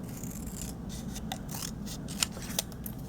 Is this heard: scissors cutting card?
yes